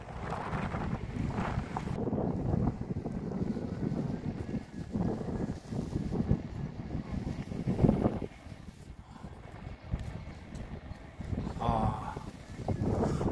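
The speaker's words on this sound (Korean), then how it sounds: "바람이 많이 붑니다." Strong wind buffeting the microphone at Seonjin harbour in Sacheon, South Korea, a continuous rough rumble with gusty swells over about thirteen seconds, with faint talk under it.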